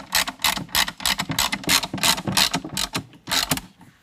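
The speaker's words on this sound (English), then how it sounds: "Then we're going to tighten those down with a 4mm Allen wrench." Repeated ratcheting clicks from a 4mm Allen wrench tightening the bolts on a K&N 63 Series AirCharger air intake on a 2019 vehicle, fast mechanical bursts close by with short pauses between strokes.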